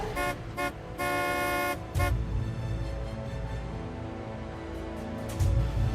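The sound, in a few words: car horn honking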